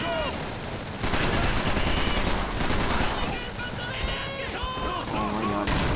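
Dense, continuous gunfire and grenade explosions in the Call of Duty 3 video game, a loud sustained barrage of rapid shots and blasts with no pauses.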